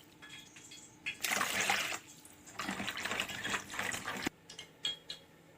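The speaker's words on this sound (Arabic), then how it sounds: "ونحط عليهم كوبايتين ميه" Water poured into a deep bowl holding salt in two bursts, a splashing, gurgling stream that stops and restarts, followed by a few small clinks.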